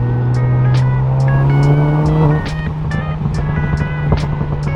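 A 2016 VW Golf R with all-wheel drive accelerating hard from inside the cabin, the engine note rising steadily through the revs, then dropping at a gear change before climbing again, loud and close.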